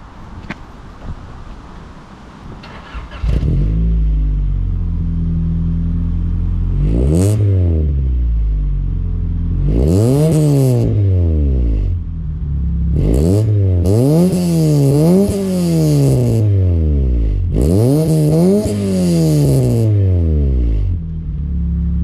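A 1989 third-generation Honda Prelude engine cranks and catches, then settles to idle before three or four sharp, high-pitched revs rise and fall, loud and close with no talking.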